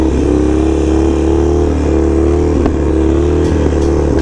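Small mini bike engine revving loud and close, a steady buzzing drone with harmonic pitch wavering slightly and a few sharp knocks near the end, no voices.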